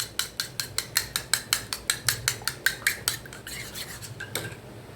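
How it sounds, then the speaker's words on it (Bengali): Two eggs with salt and pepper whisked briskly in a bowl by hand, a fast, steady run of sharp clinks and taps against the side, close and fairly loud, slowing and fading toward the end with no talking. "অল্প একটু নুন দিয়ে আর অল্প একটু গোলমরিচ দিয়ে ডিমটাকে ভালো করে গুলিয়ে নিচ্ছি"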